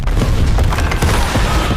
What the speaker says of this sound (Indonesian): tiba-tiba saja ada suara ledakan